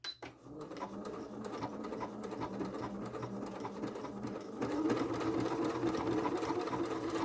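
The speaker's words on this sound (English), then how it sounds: "pick up your presser foot and pivot around and then continue sewing" A sewing machine stitches around a fabric applique, running steadily close up with a brief pause near the start, then growing louder and faster for the last few seconds.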